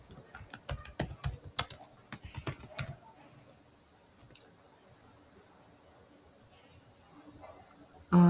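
Quick bursts of computer-keyboard keystrokes clatter for about three seconds while numbers go into a spreadsheet, then stop, leaving a quiet room tone with a faint click or two.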